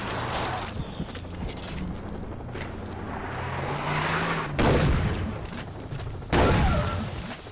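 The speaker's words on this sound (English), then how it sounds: "Shotgun." Shotgun fire in the video game Far Cry 3: Blood Dragon, with two loud booming blasts near the end over a dense, noisy game soundscape.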